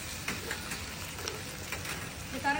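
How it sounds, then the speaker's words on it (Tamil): Ginger and garlic sautéing in oil in a pan for tomato rice, giving a steady, close sizzle with light stirring scrapes and small pops throughout, no voices. "இஞ்சி பூண்டு நல்லா வதங்கிருச்சு."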